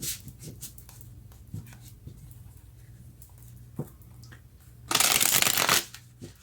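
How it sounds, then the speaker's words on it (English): A deck of tarot cards is handled in a quiet room, with soft taps and small shuffles leading to a short, loud riffle of cards near the end. "I cut this deck and these were the two cards that came out"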